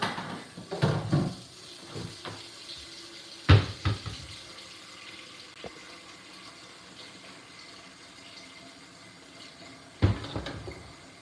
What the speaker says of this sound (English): So we got us a pan. We're gonna use this, put some water in it.